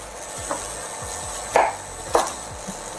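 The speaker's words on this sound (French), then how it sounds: "Couper en paysanne notre carotte, c'est-à-dire on va la couper déjà en deux" A knife cuts a carrot on a cutting board with a few distinct chops, spaced irregularly and fairly close, against a low background hiss.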